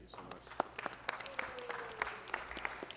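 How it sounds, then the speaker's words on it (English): An audience at a council proclamation event in Los Angeles claps in a modest, scattered round of applause, individual hand claps distinct over a quiet room. "Another round of applause for our members of the council."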